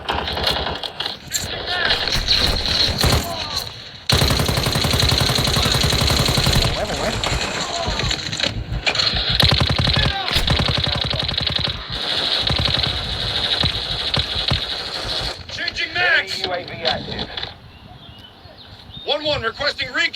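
BAS-B battle rifle firing in Call of Duty Warzone Mobile, rapid loud bursts of gunfire in long runs with brief gaps, mixed with other game effects while people talk over much of it.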